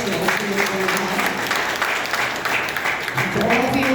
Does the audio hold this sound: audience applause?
yes